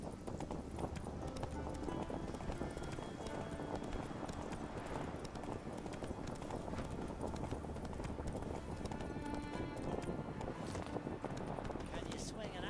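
Hooves of the horse Roach clip-clop in a rapid, steady gallop in The Witcher video game, running continuously and fairly evenly under background game sound.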